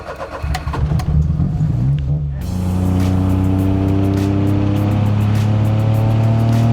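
A tuned 250-horsepower Perodua Kancil engine catches after a brief stretch of voices. It then drones steadily and loudly at close range, a strong, even hum that holds to the end.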